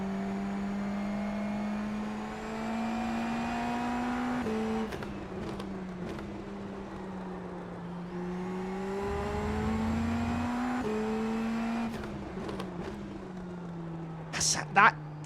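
A race car in the iRacing sim revs and pulls through the gears, its engine note climbing, dropping on shifts and rising again, loud and close for most of the stretch, ending with a few sharp pops.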